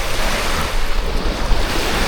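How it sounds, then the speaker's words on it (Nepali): Waves lapping on a lake shore at Point Pelee National Park in Canada make a steady, broadband wash of water and surf, with wind noise blowing across the microphone throughout and no voices. "यो पानीको आवाज सुनेर नै कस्तो मन आनन्द भयो"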